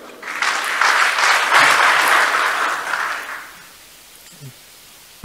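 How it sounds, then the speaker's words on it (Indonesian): An audience at an event in Aceh bursts into applause that swells for about three seconds and then fades away to quiet. "Sekali lagi tepuk tangan untuk beliau."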